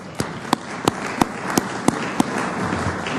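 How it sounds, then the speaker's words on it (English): A round of applause at a Columbus city council meeting, with a few sharp, evenly spaced claps standing out over a soft steady background of clapping in the chamber. "I think that deserves a round of applause."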